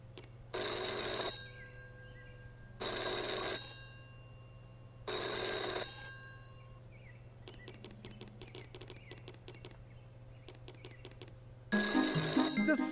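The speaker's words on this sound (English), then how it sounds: "The phone is ringing." Four bursts of a ringing phone inside a house, each about a second and a half long, loud and regularly spaced. Between the rings there is a low steady hum and faint clicking.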